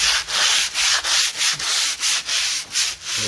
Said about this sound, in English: you rub it down until you don't have to do a ton of it